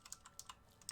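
A brand-new computer keyboard clicks under quick, irregular typing, with crisp separate keystrokes close by against a quiet background.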